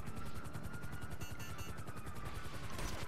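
In GTA 5, a helicopter's rotor thumps in a steady, loud rapid beat that fills the whole stretch, with a faint whine drifting above it.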